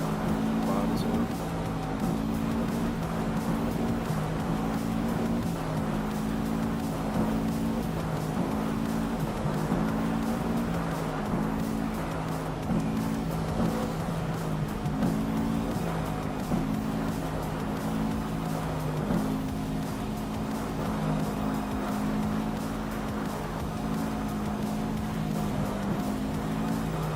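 Loud, steady engine drone from a car in the driving game Assetto Corsa, holding a constant pitch with slight wavering throughout as if cruising at speed, continuous and close with no pauses.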